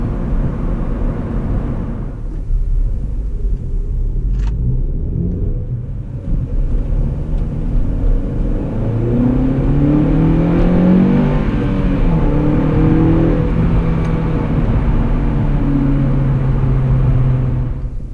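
A Honda Civic Si fitted with a K-Tuned 3-inch intake revs up and holds, its engine rumble rising in pitch into a loud, aggressive intake roar that sustains and settles, heard alone without talk.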